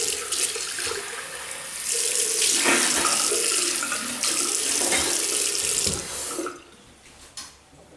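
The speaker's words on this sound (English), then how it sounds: "I'll just rinse off." Bathroom tap running steadily into a sink as someone rinses off after a shave, a close continuous splashing rush for several seconds that cuts off near the end, leaving a couple of faint drips.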